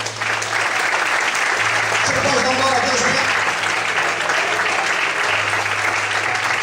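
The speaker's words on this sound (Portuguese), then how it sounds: "Você pode aplaudir o Senhor?" Church congregation applauding at an evening service, a steady wash of many hands clapping that carries on throughout, with a pastor speaking over it.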